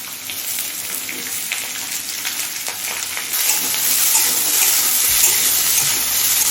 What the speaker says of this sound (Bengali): এবার পেঁয়াজ লঙ্কা আর আলুটা আরও কিছুক্ষণ ভেজে নেব